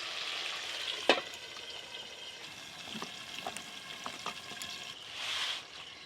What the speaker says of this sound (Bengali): এদিকে আলু ভাজা হতে থাক।